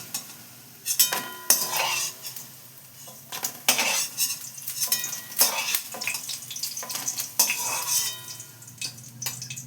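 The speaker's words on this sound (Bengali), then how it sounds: "বড়াগুলো ভাজা হয়ে গেছে, এবার আমি এগুলোকে তুলে নিচ্ছি" Metal utensils scrape and clink against a pan at irregular intervals as fried lentil fritters are lifted out of the oil, with faint sizzling of hot oil underneath.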